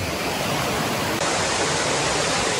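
A river rushes steadily beside a mountain campsite on Mt. Kiadangat in Aurora, a loud, continuous broadband flow of water with no voices.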